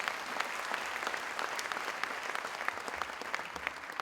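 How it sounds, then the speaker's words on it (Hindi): Audience at a business success-day event in Mumbai breaks into steady, even applause, a fairly quiet but continuous wash of many hands clapping throughout. "एक जोरदार तालियां उनके लिए हो जाए"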